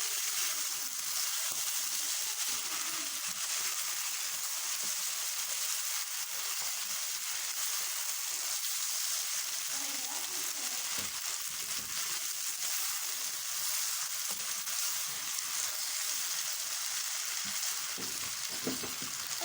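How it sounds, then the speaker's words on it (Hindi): Keema macaroni, minced meat with boiled macaroni, stirred in a hot frying pan, giving a steady, loud sizzle that holds evenly throughout with soft scraping of the stirring. "अब इसे मैं मिक्स कर लूँगी अच्छे से।"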